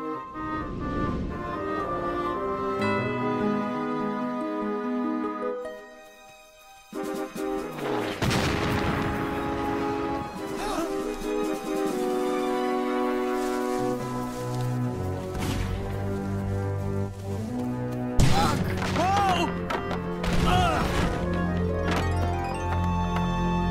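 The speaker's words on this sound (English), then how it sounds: "Cannon! And they're close!" Heavy cannon booms burst out over dramatic orchestral music, one big blast near the middle and another later, loud and close.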